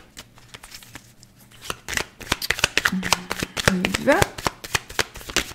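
Deck of tarot-style cards being shuffled for a reading, rapid riffling flicks close to the microphone, while someone speaks French over them.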